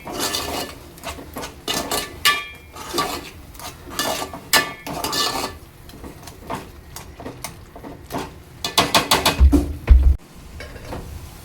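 A spoon stirring ground masala with salt in a pan for an egg curry, giving repeated close metallic scrapes and clinks in uneven bursts, with a few louder knocks near the end.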